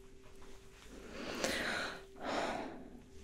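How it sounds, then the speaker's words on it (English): Two slow, deep breaths, a long airy inhale followed by an exhale, close and soft like whispered ASMR breathing, with a faint steady hum underneath. "Inhale and exhale"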